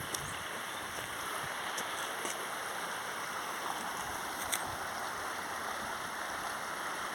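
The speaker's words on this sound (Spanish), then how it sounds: "Hasta acá se oye el sonido de ese hermoso arroyo." A stream in the countryside of Rinconada flows with a constant, even rush of water and soft splashes, heard at moderate distance with no voices.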